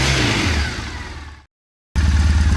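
A Triumph Bonneville motorcycle fitted with a TOR exhaust revs toward 3,000 rpm, loud and close. The engine note holds steady, then eases off and cuts out briefly before returning at a steady, throbbing level.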